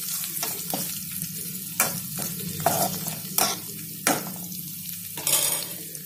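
Coriander leaves and curry leaves fry in a pan, a steady close sizzle broken by several sharp scrapes of a spoon stirring against the metal.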